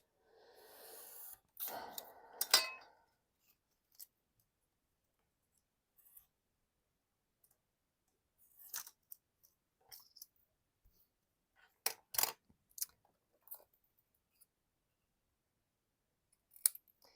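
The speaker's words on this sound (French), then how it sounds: "Un cutter. Hop. Je viens couper mon mot." Paper being cut with a utility knife to free a word, sparse short scrapes and clicks scattered across a quiet background, with a brief rustle of handling near the start.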